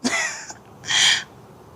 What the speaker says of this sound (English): there's a ground owl